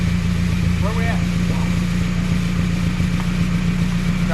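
Car engine idling at around 1,000 RPM, a steady low drone with a constant hum, close and loud, while a person talks faintly over it.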